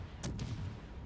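Warship guns firing in World of Warships Legends, a short burst of two sharp cracks over a low rumbling boom, brief and moderately loud.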